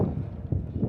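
Wind gusting across an empty seaside boardwalk on a chilly day, low rumbling buffeting against the microphone with uneven swells, close and steady.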